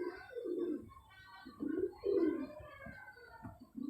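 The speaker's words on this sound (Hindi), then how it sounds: "ये आपको मैं फिरोजपुरिया कबूतर दिखा रहा हूँ" Ferozpuri pigeons coo in a series of soft, low, throaty calls close by, the phrases rising and falling in uneven bursts with brief pauses between them and no speech.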